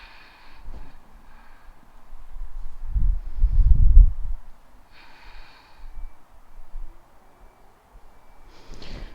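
Deep, slow breaths during a seated yoga twist, with a loud, breathy inhale and exhale swelling in the middle, followed by quieter breathing with faint rustles and no talk.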